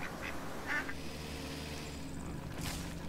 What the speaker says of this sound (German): Geht los, auf in die Freiheit, meine Peking-Enten.